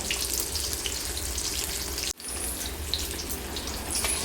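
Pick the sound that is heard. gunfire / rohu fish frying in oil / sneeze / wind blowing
rohu fish frying in oil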